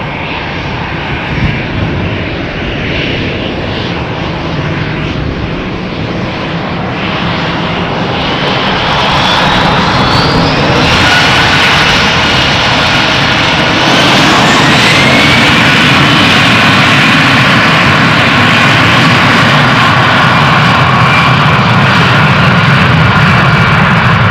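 Airliner engines roar continuously at Amsterdam Schiphol Airport, loud and close, swelling louder about halfway through as the aircraft nears, with a rising whine over the broad rumble and no talking.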